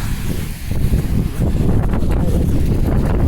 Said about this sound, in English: it's windy and cold here too